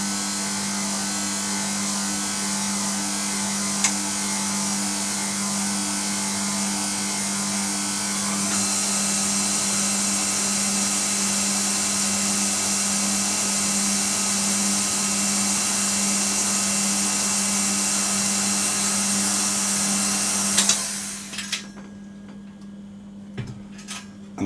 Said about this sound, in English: I'm going to whisk this very slowly until the egg whites get mixed in